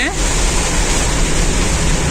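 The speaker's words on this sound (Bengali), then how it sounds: "এত পরিমাণে বৃষ্টি হচ্ছে" Heavy monsoon rain during flooding between Cumilla and Feni on the Dhaka–Chittagong highway, a dense, hissing wash of downpour that is loud and unbroken for the short stretch.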